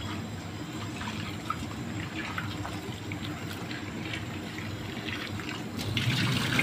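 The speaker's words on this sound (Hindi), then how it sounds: "अब हम ये सारी वेजिटेबल वॉश कर देते हैं अच्छी तरह से" Vegetables for a Greek salad rinsed under a running kitchen tap, a steady gush of water splashing over them for several seconds, growing slightly louder near the end, with no talking.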